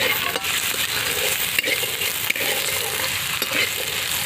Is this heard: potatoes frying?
yes